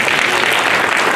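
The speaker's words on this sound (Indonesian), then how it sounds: "Aplaus untuk kita semua" Audience applause at the close of a formal Indonesian event, a dense, steady wash of clapping filling the whole short moment.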